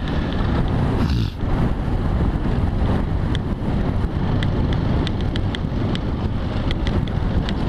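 Wind roars against the microphone during a motorcycle ride on a slow, rough road. The buffeting rush is loud and continuous throughout.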